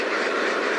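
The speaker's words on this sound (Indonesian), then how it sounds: "ini kegiatan pagi untuk bebek petelur" A flock of egg-laying ducks at a duck farm in the morning makes a dense, continuous chorus of overlapping quacks, loud and close, filling the whole moment without any talking.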